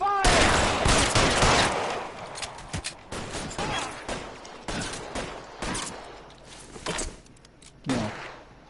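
Gunfire from the video game L.A. Noire erupts in sharp, separate shots and short bursts, loud and close, scattered across a tense shootout with quieter gaps between volleys.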